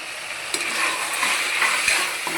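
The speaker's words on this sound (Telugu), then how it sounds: "మటన్ బాగా వేగనిద్దాం నేను." Mutton for gongura mutton fries in a pan, a steady bright sizzle with a few clinks and stirring knocks, close and continuous, with no talk.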